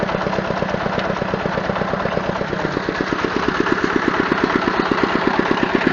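A walk-behind motor tractor engine runs steadily while mowing and raking a potato field, a loud, close, rapid chugging beat holding an even pace throughout with no voices.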